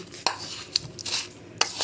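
Light scraping and clinking of a spoon against a bowl while stirring turmeric, paprika and salt together, a few sharp taps over a soft stirring rustle, close and fairly quiet.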